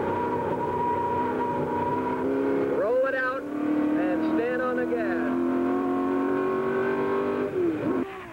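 A race car at the 1965 LA Times Grand Prix accelerates hard, its engine note climbing through several upshifts, loud and close, with a commentator talking over the roar.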